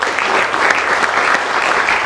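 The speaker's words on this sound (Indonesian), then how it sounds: "Tepuk tangannya boleh." A studio audience at a televised Indonesian talk show on democracy and comedy breaks into loud, dense applause, a thick continuous roar of clapping with no gaps and no voices over it.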